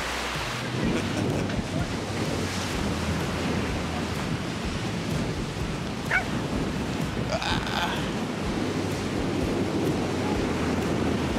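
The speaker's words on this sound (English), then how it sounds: "Waves are pretty good." Steady roar of ocean surf at Dennis on Cape Cod, waves breaking continuously nearby, mixed with gusty wind buffeting the microphone.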